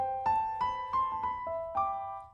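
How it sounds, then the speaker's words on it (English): A sampled VST piano modeled on the Noir plays a short, soft melodic phrase of about five struck notes, each ringing and overlapping, close and clean with no voices. "this is the sound of a VST of the Noir"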